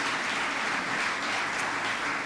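Audience applause fills a theater at an award ceremony, a steady dense wash of many hands clapping at once, sustained and fairly loud with no voices over it.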